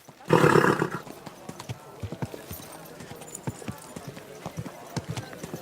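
A horse in the medieval game Kingdom Come Deliverance 2 lets out a loud burst of snorting and neighing, then its hooves clip-clop in a steady gallop rhythm under brief spoken words.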